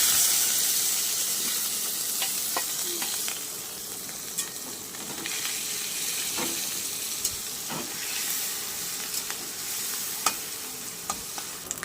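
Fish roe coated with salt and turmeric sizzles in oil with five-spice seeds, a steady close hiss with scattered crackles and pops throughout.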